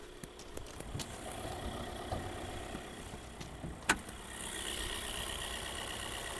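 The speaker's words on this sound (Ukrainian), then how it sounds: "моторчик працює гарно, демпфера не чути" A 2021 Volkswagen Caddy with a stock, untouched engine bay idles with no audible damper noise, giving a steady, quiet low rumble throughout, broken by one brief sharp click partway through.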